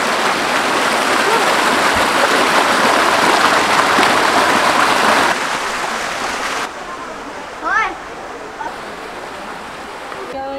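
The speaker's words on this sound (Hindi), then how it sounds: "आवाज सुन के ना इतना तेज पानी आ रहा" Fast-flowing river water rushes loudly as a steady broadband roar, dominant for the first half, then drops to a quieter, more distant wash while a voice speaks briefly over it.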